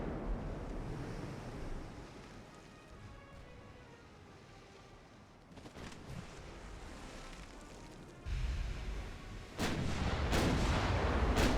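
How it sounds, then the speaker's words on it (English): Ten-inch battleship guns firing in the naval video game Ultimate Admiral: Dreadnoughts, heard as a rumbling bed of distant artillery booms and sea wash, building to several loud, sharp blasts near the end, no talk. "Just start firing the 10-inch guns at it and hope that you can land a couple of hits."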